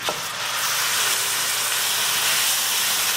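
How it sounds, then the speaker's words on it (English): A tadka of cumin seeds, onion, ginger, garlic and green chili in olive oil sizzles steadily in a pan over high heat, a bright continuous hiss starting with a sharp burst as ingredients hit the oil. "We're going to cook our tadka really well."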